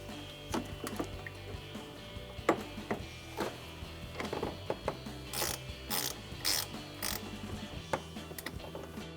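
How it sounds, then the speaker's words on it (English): A 10mm wrench tightens the positive terminal on a Toyota Tacoma's car battery, giving close, repeated ratcheting clicks in short uneven bursts, alone without talk. "we're going to reconnect the positive wire to the battery terminal with a 10mm wrench"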